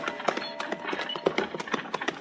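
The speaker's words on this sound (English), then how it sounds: "Now, any time his horse isn't walking slow, Chester's in a real hurry, Trimble." Radio drama sound effect of a horse galloping, a fast steady clatter of hoofbeats in a driving rhythm, close and fairly loud, continuous with no talk.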